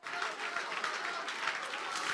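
A church congregation claps and applauds during a worship service, a dense, steady burst of many hands with some crowd voices mixed in, fairly loud and sustained throughout.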